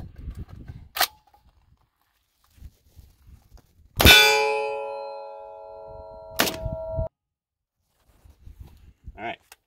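A .308 battle rifle round strikes a tabletop miniature: one sharp metallic clang rings with a long bright decay, bracketed by fainter knocks and clicks. Scattered quiet handling noise and brief talk come before and after.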